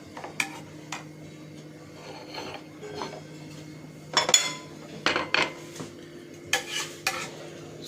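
Pasta pasanda, a creamy coconut-milk pasta, served onto a plate: scattered scrapes and clinks of a utensil against pan and plate, with soft wet stirring sounds between, close and fairly quiet.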